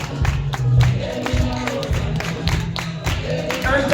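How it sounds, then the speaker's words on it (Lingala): A church congregation at a worship service claps and cheers in a dense, continuous wash of noise, with sharp hand claps standing out throughout. "Intensifie tes acclamations, tes acclamations."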